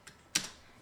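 Two quick, close computer keyboard key presses, a faint tap followed by a sharper click, as shortcut keys are struck in a quiet room.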